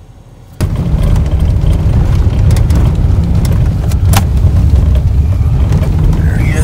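A Toyota Tundra pickup truck drifts fast through snow with a loud, steady engine roar held close for several seconds, with faint voices underneath.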